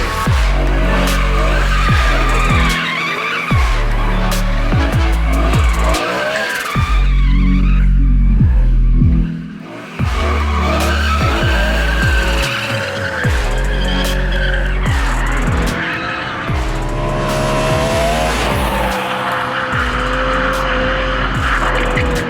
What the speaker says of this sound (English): we needed to get rid of the old tyres,